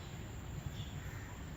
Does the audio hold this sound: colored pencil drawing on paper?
no